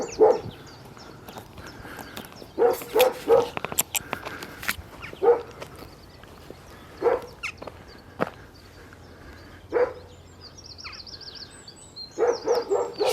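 A dog barks in short bursts from a moderate distance, scattered single and double barks across an outdoor country walk, with footsteps and faint birds in the background.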